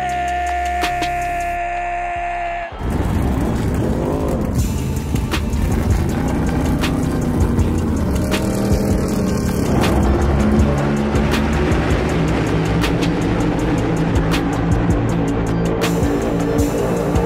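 Loud NASCAR race car engines at Atlanta Motor Speedway roar up and scream past continuously, layered with tire squeal, after a brief quieter start.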